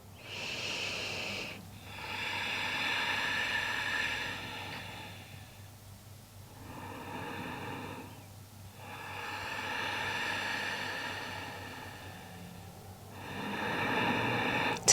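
Slow, deep yoga breaths, close and clear: several long airy inhales and exhales in an even rhythm, with quiet pauses between them and no talking.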